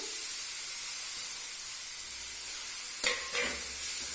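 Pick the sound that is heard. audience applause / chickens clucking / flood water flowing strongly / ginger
ginger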